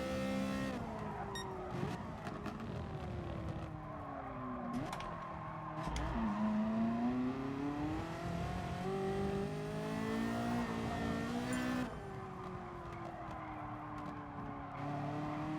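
A Porsche race car in Gran Turismo Sport screams through the gears, its engine pitch climbing and dropping with shifts and brief tire squeal, loud and continuous throughout.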